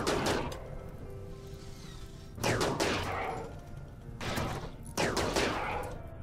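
Weapon fire from the RimWorld colony game: several sharp gunshot bursts with a roughly two-second gap between each, every one ringing out briefly over a low background rumble, with no talking.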